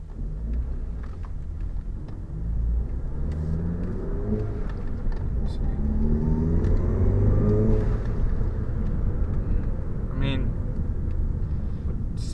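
Turbocharged VW MK7 Jetta GLI with its muffler deleted pulls hard under acceleration, a loud, steady engine drone that rises in pitch through a long run, with brief turbo whistles and road rumble beneath.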